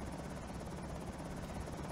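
A helicopter flies overhead in the video game Project Zomboid, its steady rotor thrum and whine loud and continuous throughout.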